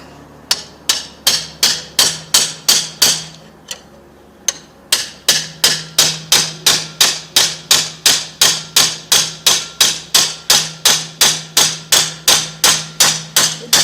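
Steady, rapid hammer blows ring out on the metal of a Soviet T-34 tank V12 diesel engine fuel delivery pump under repair, dozens of sharp clanks in a regular rhythm with one brief pause, loud and close.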